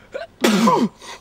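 A single loud, close sneeze, a short intake followed by a sharp explosive burst that trails off quickly.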